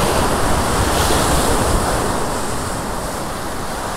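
A big ocean swell washes over coastal rocks in a continuous loud roar of surf, broad and steady, with wind buffeting the microphone.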